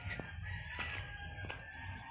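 Chickens cluck close by against a low steady hum, with a few short sharp calls rising above it.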